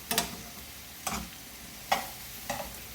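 Bulgur, leftover vegetables and pre-cooked frozen shrimp stir-fry in a pan in a warm kitchen, with four distinct stirring scrapes and sizzling bursts spaced about a second apart over a quiet background.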